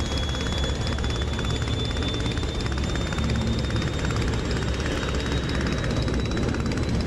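In the DCS flight game, a Sopwith Camel's propeller engine drones loud and constant at close range for the whole stretch, with no talking.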